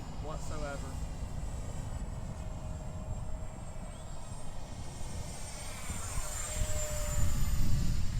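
An X-Fly SU-27 radio-controlled jet with twin 50mm electric ducted fans makes a flyby, its high whine droning steadily and swelling louder near the end as it passes, with people talking over it.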